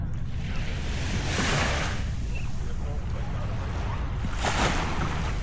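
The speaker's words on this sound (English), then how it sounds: "And then you've got the gorgeous sea." Shallow-beach sea waves on Zakynthos, Greece wash in as a steady, close surf hiss, with two gentle surges swelling and fading and wind buffeting the microphone.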